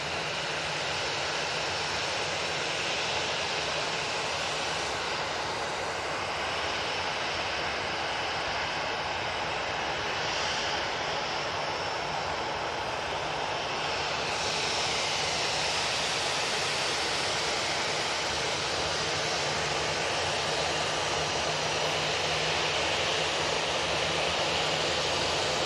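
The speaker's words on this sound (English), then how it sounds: "Etihad 787-10 Dreamliner now in short final for 2-3 rights" An Etihad Boeing 787-10 Dreamliner lands at Manchester Airport, a constant, loud, broadband engine and air rush sustained throughout with no talk.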